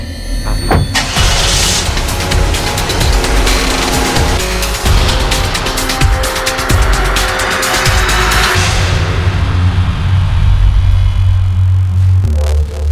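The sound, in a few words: car driving off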